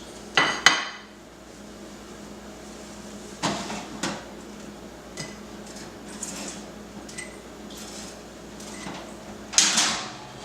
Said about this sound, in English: I'm going to take a measuring cup and my spatula